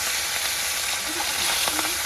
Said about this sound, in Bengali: এখন ভাজবো মাছটাকে।